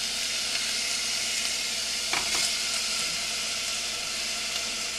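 Butter melts and sizzles in a pan over low heat for homemade risotto, a steady broadband hiss with a brief disturbance midway, close and continuous with no speech.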